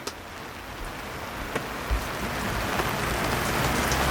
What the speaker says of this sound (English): Of course I do this when it starts raining.